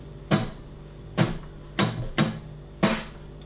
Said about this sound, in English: the strumming pattern sounds like this